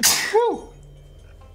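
A single sharp human sneeze bursts out loudly at the start, followed by a brief exhaled sigh and then quiet game background.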